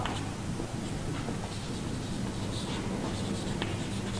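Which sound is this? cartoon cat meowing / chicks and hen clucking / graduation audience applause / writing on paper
writing on paper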